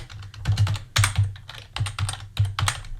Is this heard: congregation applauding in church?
no